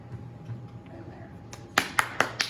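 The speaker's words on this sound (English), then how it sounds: "Huge round of applause" After a stretch of quiet room hum, a small audience at a student presentation breaks into clapping, four crisp, evenly spaced claps standing out near the end.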